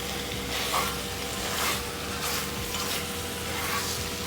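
Boiled, peeled jackfruit seeds stirred into a jackfruit sabzi frying in a pan, with a soft steady sizzle and gentle scraping stirs recurring every second or so, fairly quiet and without speech.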